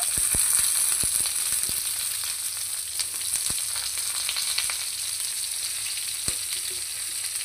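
Eggplant pieces and drumstick sticks sizzle in hot oil in a pan for a mixed vegetable charchari. The frying hiss is dense and steady throughout, with occasional sharp taps and clicks of stirring, and nobody speaks.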